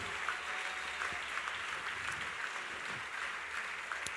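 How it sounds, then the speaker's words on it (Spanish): Audience applause at a church youth service, a steady wash of many hands clapping that holds evenly throughout with no voices standing out. "Dale ese aplauso más fuerte al Rey de Reyes."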